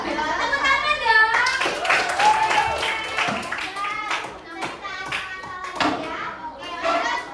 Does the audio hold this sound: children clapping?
yes